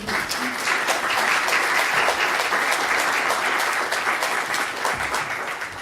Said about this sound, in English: Please give a warm round of applause to Paddy Ashdown.